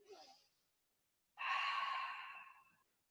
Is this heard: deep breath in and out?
yes